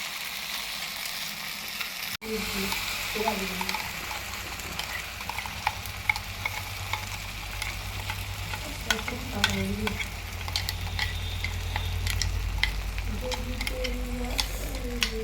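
Ginger-garlic paste frying in a pan and stirred for a picnic dish, a steady moderate sizzle broken by repeated scraping and knocking of a spoon against the pan, no talking.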